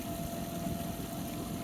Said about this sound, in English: I can barely hear that Honda motor running